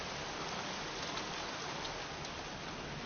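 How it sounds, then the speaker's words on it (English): Steady rain in the Heavy Rain video game, a dense continuous hiss of falling water on surfaces, even and close throughout with no voices. "Goddamn rain. Soaking wet."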